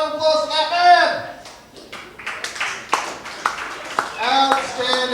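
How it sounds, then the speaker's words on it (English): Scattered audience clapping at a comedy show in a pub and grill, a brief burst of hands in the middle of the clip, with a voice talking before and after it. "round of applause for that"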